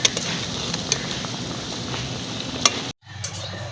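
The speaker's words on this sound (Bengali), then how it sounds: "আমি এপিট ওপিট করে উল্টে ভেজে নিচ্ছি, লাল লাল হয়ে গেছে দেখো" Steady, close crackling sizzle of food frying in hot oil with a few small pops, cutting out abruptly near the end before resuming.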